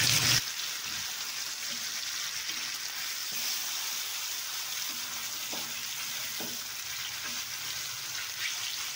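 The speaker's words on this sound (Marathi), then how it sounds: "आता तेलामध्ये पीस टाकला ना 2 मिनिटांनी परत पलटी करायचा, म्हणजे एका साईडने तळला जातो।" Pieces of fish frying in refined oil in a pan, a steady loud sizzle that runs unbroken throughout with a few small pops and spatters and no voices.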